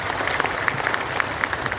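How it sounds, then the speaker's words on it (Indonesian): A crowd at Sentul International Convention Center applauds volunteers and health workers, the clapping fairly quiet and distant, a continuous patter with a few sharper claps rising above it. "Tepuk tangan buat IPB."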